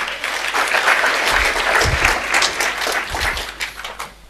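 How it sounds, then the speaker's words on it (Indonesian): A congregation at a church sermon breaks into applause, a dense, steady roar of many hands clapping at full strength before tapering off at the end. "Tepuk tangan untuk kebenaran ini"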